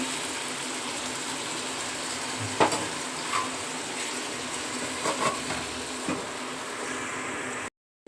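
Capsicum chicken frying in a covered pan, a steady close sizzle with a few faint clinks and stirring knocks, continuous until it cuts off abruptly.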